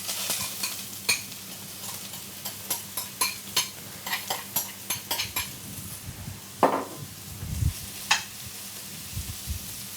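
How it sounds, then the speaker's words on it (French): Quartered figs warm in a frying pan under a steady soft sizzle, with a run of light clicks and taps from a utensil against the pan, close and moderately quiet, no voices. "On va juste les chauffer, on les chauffera juste un petit peu dans la poêle."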